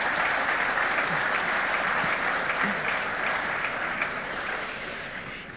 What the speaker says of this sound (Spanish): Sí, aplauso. Aplauso.